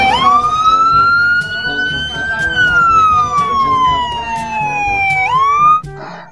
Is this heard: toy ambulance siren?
yes